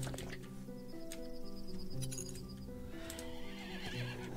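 In the Hearthlands strategy game, a horse whinnies with a drawn-out neigh over steady clip-clopping hooves, the sound staying fairly quiet and continuous for several seconds, with no talk.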